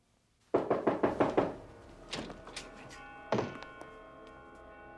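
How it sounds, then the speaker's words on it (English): An office door in the film Scream (1996) takes a quick run of six sharp knocks. A few lighter taps and one more solid thunk follow in a quiet corridor. "The killer knocks on Himbry's office door"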